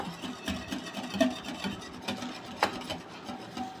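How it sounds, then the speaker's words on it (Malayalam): A spoon scrapes and stirs maida flour batter in a bowl, close and fairly quiet, with rhythmic rubbing strokes and a couple of sharper knocks against the bowl's side. "ഇത് നല്ലപോലെ നമ്മൾ മിക്സ് ചെയ്യണേ"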